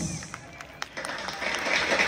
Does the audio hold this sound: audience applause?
yes